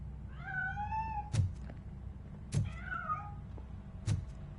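RoboCop video game cat hidden inside a piano meows twice, clear drawn-out cries close by, each followed by a sharp knocking thud, with a third thud near the end.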